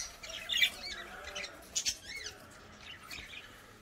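Aviary birds squawk in short, sharp bursts, with a loud cluster of calls early and another pair of squawks midway, over faint chirps and quiet background rustle.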